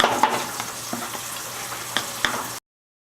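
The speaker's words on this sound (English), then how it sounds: "This is what it looks like near the end of your stirring and getting all the lumps of the marshmallow fluff out." Fudge mixture with marshmallow fluff being stirred in a pan, soft scraping and light bubbling with a few sharper clicks of the spoon against the metal, close and moderate, then cutting off to silence.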